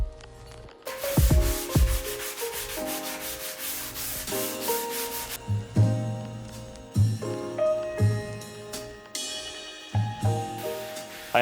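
Repeated sanding strokes rasp against a wooden woodworking piece, steady back-and-forth scratching at close range with a few louder bursts, no talking.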